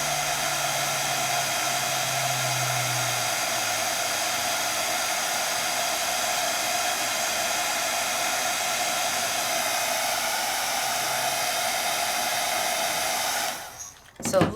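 A handheld heat tool blows a loud, steady whooshing roar while heat-setting interference acrylic ink on white paper, held close and running unbroken for about thirteen seconds before it cuts off with some handling noise.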